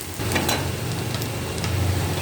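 Thinly sliced raw banana pieces fry in hot oil in a pan, giving a steady, loud, close sizzle with faint crackles and ticks throughout.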